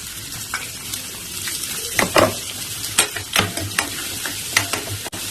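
Chopped onion fries in hot oil with cumin under a constant close sizzle. Several sharp scrapes and clatters of a stirring spoon against the pan stand out, and there is no speech.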